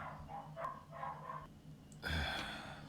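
Several dogs barking at home, quick bursts of muffled barks under a low hum, ending in a louder, closer bark.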